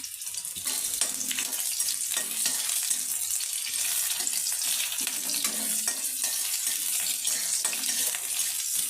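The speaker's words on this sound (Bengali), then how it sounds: "লঙ্কা পেঁয়াজটা আমি হালকা করে একটু ভেজে নেবো প্রথমে" Chopped onion and green chilli frying in hot oil in a pan, a steady dense sizzle that runs without pause, with occasional stirring scrapes and soft clinks close by.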